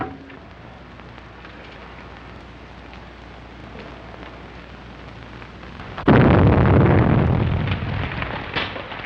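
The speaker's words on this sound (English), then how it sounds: "Explosion in 93 Madeira Drive." Explosion effect in a vintage crime radio drama: a sudden loud broadband blast erupts about two-thirds through, followed by a sustained roaring, crackling rumble over a quieter background, with no talk.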